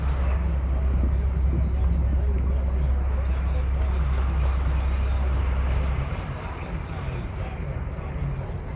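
A boat's engine drones loud and steady with a deep low rumble and wind noise as it approaches Caticlan Port. The low throb drops off partway through, leaving a lighter hum.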